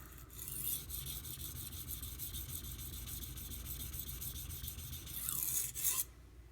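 A Karaku Aogami #1 Bunka 165mm knife is drawn across a sharpening stone, making a continuous close gritty rasp of back-and-forth strokes that grows brighter near the end before stopping.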